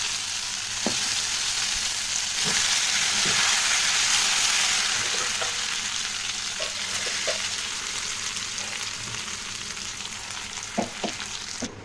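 Continuous loud sizzling of ghetkochu leaf paste frying in hot oil with nigella seeds, with scattered light taps and scrapes of a spoon in the pan.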